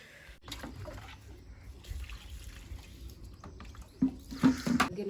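Water is poured onto dry potted plants and a tulsi plant, soft trickling and dribbling that grows into a few louder splashes toward the end, with no one talking.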